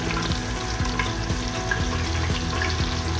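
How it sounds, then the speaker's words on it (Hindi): Finely chopped onions frying to light brown in a pan for mutton kaleji, a steady close crackling sizzle with occasional faint clinks running throughout. "प्याज हमारे ब्राउन हो रहे हैं"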